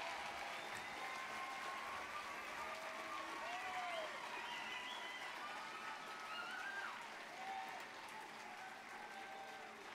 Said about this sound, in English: Let's give one last round of applause to all of our graduates.